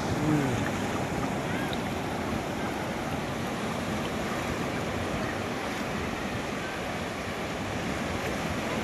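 Sea waves at Kunkeshwar beach near Devgad, by the temple's large shore rocks, give a continuous broad wash of surf mixed with wind noise, close and steady throughout.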